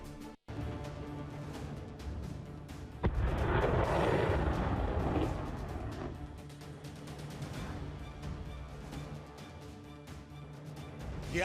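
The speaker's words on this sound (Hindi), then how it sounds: "ये वो खौफनाक धमाके जिनकी गूंज सीधे मॉस्को में व्लादिमीर पुतिन के कानों के पर्दे फाड़ रही हैं।" Heavy explosions boom over Volgograd in wartime, a deep sustained rumble with a sharp blast near the start, then rolling echoes and roaring fire-like noise continuing throughout.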